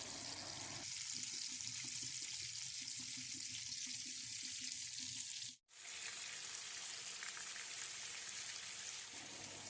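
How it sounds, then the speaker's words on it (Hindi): Chapli kebabs sizzle steadily in hot oil, a continuous close hiss that briefly cuts out partway through and then resumes. "अब मैं दूसरे जो रह गए थे बाकी वो भी फ्राई कर लेती हूँ"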